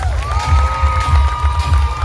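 Loud, steady crowd noise with cheering at a steel pan showdown as the audience applauds a band, a dense wash of voices filling the whole stretch.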